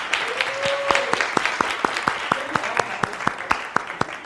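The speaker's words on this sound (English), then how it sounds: "Let's give all our honorees a round of applause." An audience applauds honorees at an awards kick-off event, with steady, fairly close clapping made up of distinct sharp hand claps over a few seconds and a faint voice beneath.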